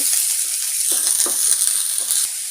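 Steady broadband sizzle of onions and green chili sautéing in a hot pan, with occasional soft stirring scrapes, no talking.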